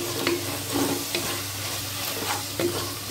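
Mint and coriander leaves sautéing in a pan with ginger and garlic for seeraga samba mutton biryani: a steady close sizzle with a few soft scraping stirs at irregular intervals, no talking.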